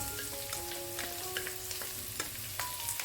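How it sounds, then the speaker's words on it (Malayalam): Finely chopped onion sizzles softly in a pan with cooked lentils for a potato bhaji curry, a quiet, steady frying hiss broken by small stirring clinks. "ഒരു ഉള്ളി ചെറുതായി അരിഞ്ഞത് നമുക്കിതിലേക്ക് ഇട്ടു."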